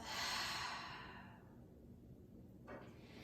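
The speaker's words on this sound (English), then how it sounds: "Exhale out through the mouth." A deep exhale out through the mouth during a power yoga stretching session, a single soft breathy rush that fades over about a second and a half, followed by faint room quiet.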